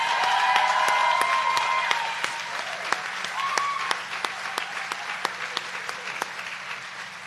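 Audience applause at a 2025 graduation ceremony, a dense, loud wash of many hands clapping that thins somewhat after two seconds, with scattered sharper individual claps standing out and faint voices underneath.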